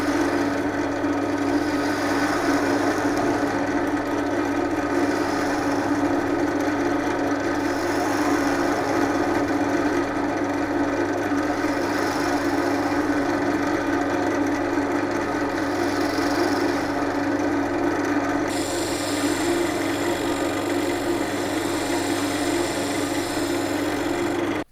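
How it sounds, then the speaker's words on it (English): A wooden base is sanded down to 240 grit, a loud, steady, continuous abrasive rasp with a machine hum that runs unbroken throughout. "I will just tidy up this bottom piece and then sand it all up."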